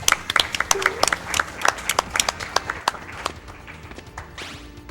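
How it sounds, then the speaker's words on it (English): A crowd claps in applause at a live speedrun marathon event, many hands clapping fast and unevenly for several seconds before it thins out, loud and close, with a brief voice near the end. "Applause!"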